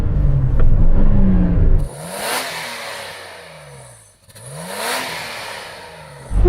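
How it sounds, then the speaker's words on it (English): Standard Nissan Patrol SUV engine revving up from close by, a loud throaty burst followed by two rising-and-falling rev sweeps with exhaust roar, no talking. "So would you mind just revving up That standard Nissan Patrol, please."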